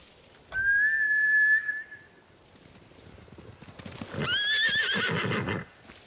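Two loud horse whinnies in Ghost of Tsushima, one early and a longer one later, with faint hoof clatter and rustling between them.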